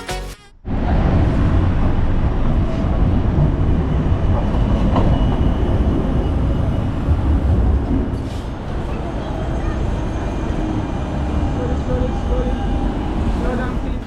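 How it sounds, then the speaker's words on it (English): A GT6 tram in Nuremberg rolls into a station with a loud, steady rumble of wheels on rails, continuing for several seconds before easing slightly as it slows. "there we can now take a look at my next tram arriving."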